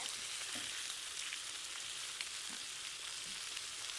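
Browned food sizzles steadily in a cooking pan as it drops into sauce, a close, continuous crackling fry with small pops and no talking.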